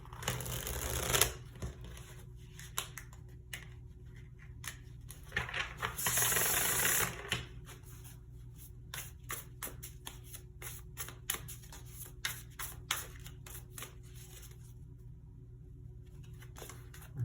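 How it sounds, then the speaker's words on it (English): Tarot cards are shuffled and drawn close up in a quiet room, giving a run of crisp riffling flutters and a longer dense shuffle burst, then scattered soft card snaps and slides, with no voice. "I also want to pull 2 tarot cards to kind of represent more of this story."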